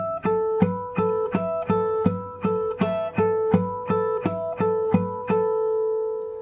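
Fingerstyle acoustic guitar plays the song's intro with ringing harmonics, a steady pattern of plucked notes roughly every half second over bass tones, close and clear with no voices.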